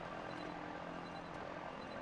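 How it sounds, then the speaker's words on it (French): Link's built airplane flies through the game world in Tears of the Kingdom, giving off a steady, dense whirring propeller drone that stays constant and fairly loud, with no speech over it. "L'avion de Link n'est pas particulièrement équilibré, cela dit."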